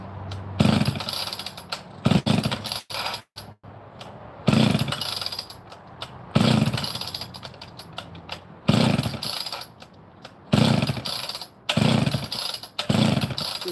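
Stihl or McCulloch chainsaw being pull-started with the choke on, repeated loud ripping rasps of the starter cord in bursts with short sputters between pulls, no talking.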